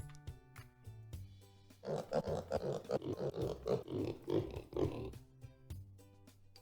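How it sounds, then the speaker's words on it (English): Several video game pigs grunt and oink in quick overlapping bursts over a steady musical backdrop. "Interesting sounds from our pig friends there."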